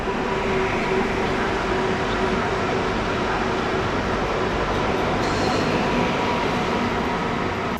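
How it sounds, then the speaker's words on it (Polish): Polregio ED72 electric multiple unit running between Warsaw Central and Łódź Fabryczna, a steady loud rolling rumble of the train throughout with a constant tonal hum and no break. "Skład spółki Polregio e ED72 z Warszawy Centralnej do Łodzi Fabrycznej."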